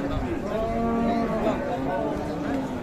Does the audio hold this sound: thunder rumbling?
no